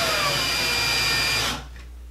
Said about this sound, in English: I'm gonna take my screw, start driving it in